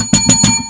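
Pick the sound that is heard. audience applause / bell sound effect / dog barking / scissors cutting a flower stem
bell sound effect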